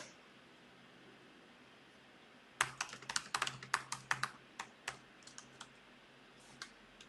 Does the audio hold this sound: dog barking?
no